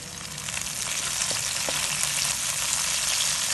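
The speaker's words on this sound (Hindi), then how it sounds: "प्याज और हरा लहसुन मैंने 1 मिनट के लिए भून लिया" Onion, green garlic and green chilies sizzle and fry in a pan with a steady, loud crackle throughout and no voices.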